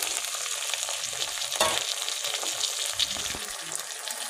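Tomato puree sizzles loudly in a hot pan of ginger-garlic masala for a Punjabi-style shahi paneer korma, with steady frying hiss throughout and a few sharper bursts of stirring and spatula movement.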